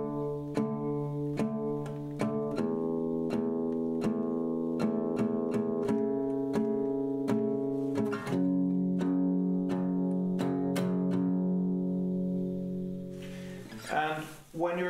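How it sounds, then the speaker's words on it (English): Acoustic guitar strumming the verse chord progression of a song, played a little slower: steady, fairly quiet strums with sustained chords shifting every few seconds, ending in a short burst of handling noise. "this chord progression for the verse as a whole and a little bit slower, it will sound like this"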